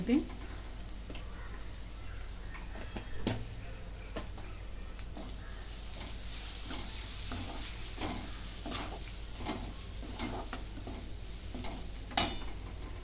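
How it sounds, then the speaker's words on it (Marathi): A spoon stirs potato bhaji with turmeric in a pan, steady sizzling frying underneath, with soft rhythmic scrapes and a few louder clinks against the metal, close and continuous. "हे उकडून घेतलेले बटाटे सगळं मिक्स करून घेते"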